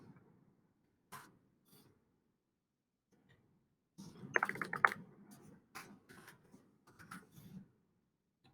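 Keys tapped on a computer keyboard while writing an email, scattered single clicks followed by a denser run of quick strokes, then a few more bursts, close and quiet with no talking.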